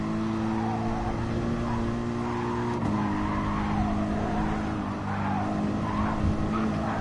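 Race car engine in GT Sport holding a loud steady drone, then dropping in pitch at one sharp upshift and climbing again, with faint tyre scrub underneath and no voices.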